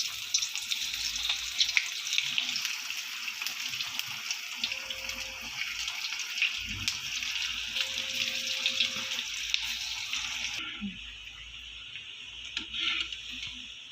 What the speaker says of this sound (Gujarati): હવે આને મધ્યમ તાપે તેલમાં તળી લઈશું